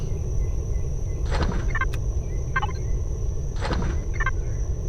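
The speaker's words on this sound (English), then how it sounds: "Hear all the birds tweeting." Ambient bird calls in the video game Empyrion on a moonlit night, a few short chirping bursts in groups over a steady low background hum and a constant high tone.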